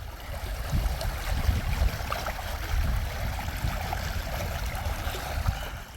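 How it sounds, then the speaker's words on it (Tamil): Water rushing and gurgling steadily as it flows into a village pond after a cyclone, a continuous low churning flow close by with no voices. "இது வெளியே தண்ணி வந்து இந்த குளம் நிறைஞ்சிக்கிட்டே இருக்குது பாருங்கள்."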